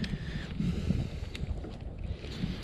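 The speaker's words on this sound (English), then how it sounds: "The wind is blowing straight at me." Wind gusts against a fishing boat out on a lake during a cold front, giving a steady low rumble and buffeting with a faint hiss of water, continuous and fairly loud at the microphone.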